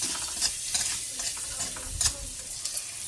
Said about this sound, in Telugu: కొంచెం బ్లాక్ పెప్పర్ కూడా వేస్తాము. వేసి ఫ్రై చేస్తాం.